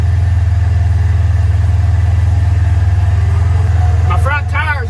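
A heavily loaded pickup truck's engine runs steadily nearby with a low, throbbing drone; near the end a voice briefly speaks over it.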